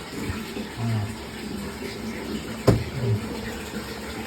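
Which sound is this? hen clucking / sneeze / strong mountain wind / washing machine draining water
washing machine draining water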